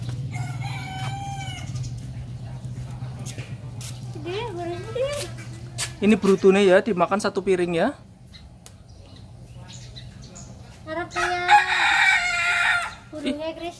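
A rooster crows several times, fairly close and loud, among other chicken clucks, while people talk over it.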